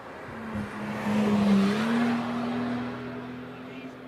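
A standard road car accelerates hard up the Shelsley Walsh hill climb toward the S approach at about 78 mph, its engine note rising and holding loud and steady as it passes fairly close over four seconds.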